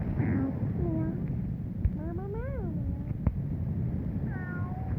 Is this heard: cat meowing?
yes